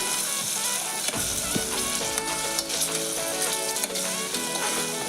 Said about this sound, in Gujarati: હવે ટામેટાને સાતરી લઈશું